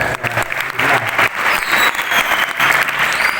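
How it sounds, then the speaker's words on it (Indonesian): Steady, dense audience applause fills a school foundation's opening assembly, a continuous wash of many hands clapping at once with almost no talk. "Tepuk tangan."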